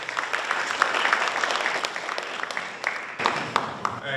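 Applause from the audience at a school committee candidate forum hosted by a teachers' union, steady clapping filling the room for several seconds at moderate volume.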